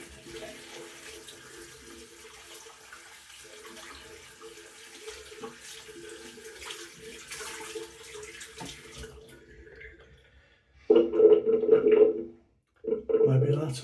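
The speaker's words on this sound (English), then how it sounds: "So let's wash this brush out again." A paintbrush rinsed under a running tap, with a loud, close gush of water arriving near the end in two bursts after a quieter, murmuring stretch.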